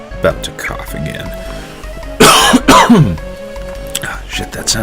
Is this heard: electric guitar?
no